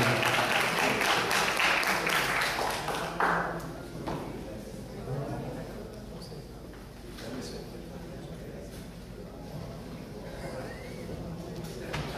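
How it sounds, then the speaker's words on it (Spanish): Applause at the close of a talk on Puerto Rico's economic situation, loud clapping for about three seconds that then thins out into scattered claps, shuffling and murmuring voices in the room. "El profesor Wilfredo Ortiz, me gustaría que todo el mundo pues, le diera un aplauso"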